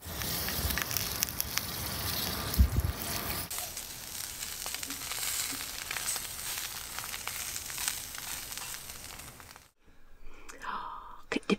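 Food sizzles and crackles in a pan over an outdoor cooking fire, with a dense, steady frying hiss that runs near and continuous, then drops away abruptly near the end.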